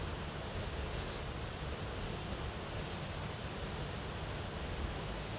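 Waves wash onto a beach in a steady, broadband roar with no distinct breaks, heard as continuous surf noise without any voices.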